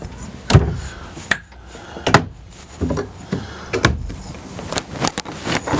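Storage compartment doors and latches on a 2014 Keystone Montana Mountaineer 331 RLT fifth wheel RV, heard being opened one after another as a series of close, sharp clunks and clicks separated by short pauses.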